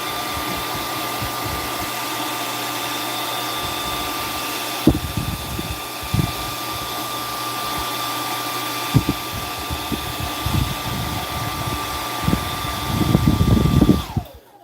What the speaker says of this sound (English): So here, I'm gonna hit this with a blow dryer first.